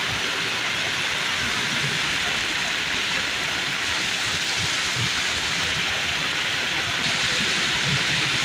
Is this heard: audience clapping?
no